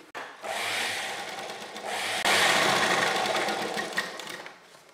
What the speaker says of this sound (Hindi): अब हम इसके ये आर्म होल पर भी सिलाई लगा देंगे